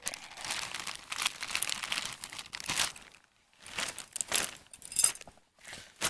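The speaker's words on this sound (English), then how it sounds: "Coffee bag here." A coffee bag crinkles and rustles up close while handled at a woodland camp, in bursts of crackling plastic broken by a brief pause, then more crumpling.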